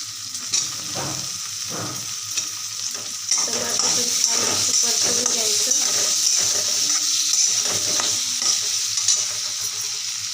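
Shrimp chutney with tomatoes sautéing in a pan, a bright steady sizzle overlaid with repeated scraping and clinking strokes of a spoon stirring against the pan, close and continuous.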